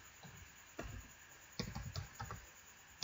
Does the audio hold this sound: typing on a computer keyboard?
yes